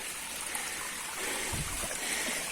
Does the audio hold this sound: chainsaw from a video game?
no